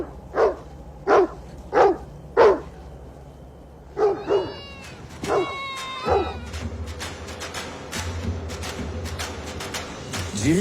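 A herding dog trained for a Mongolian nomadic migration barks four times in a steady, evenly spaced series, loud and close. Further short yaps and bird-like chirps follow over a low rumbling background, with no talk.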